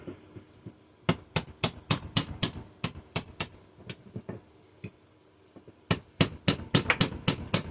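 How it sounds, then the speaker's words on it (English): Rapid metallic hammer strikes on a chisel splitting apart automotive ignition coils, a quick steady series of sharp taps, a short pause, then another burst of blows, close and clear. "we're going to take the hammer and chisel and see if we can't split these apart"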